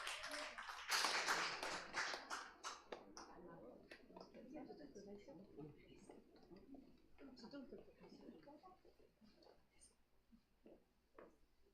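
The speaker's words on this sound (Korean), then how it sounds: "박수로 맞이하겠습니다." A church congregation at a university church worship service breaks into a brief burst of clapping at the start, which fades as a voice carries on speaking in a quiet, echoing hall.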